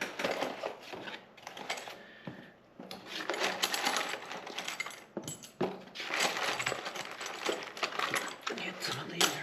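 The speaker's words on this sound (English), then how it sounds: "Get our butt weld clamps" Metal butt weld clamps clink and rattle as they are handled in a workshop during heater channel and support rail repair on a 1966 VW Beetle Convertible, with a busy run of close, scattered metallic clicks and taps.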